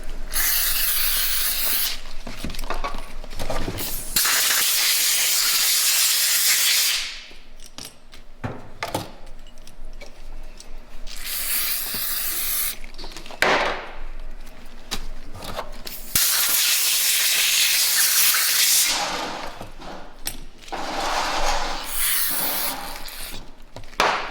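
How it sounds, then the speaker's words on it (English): Compressed air blasts dirt off a spring on a 2020 Harley-Davidson Road Glide Special engine fitted with a 128-inch big bore kit. Several loud, close hissing bursts are separated by short pauses, with faint metallic clinks between them. "And you gotta blow the dirt off the spring too."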